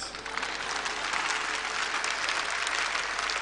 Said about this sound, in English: You started clapping.